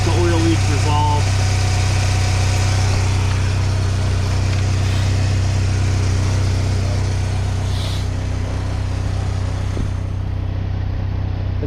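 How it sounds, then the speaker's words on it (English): A 2009 Saturn engine idles steadily and loudly up close with a low hum, a faint rattle from a loose plastic piece on the valve cover mixed into the drone. "It's got some rattling, and it's mainly because of the plastic piece that kind of pops on the valve cover"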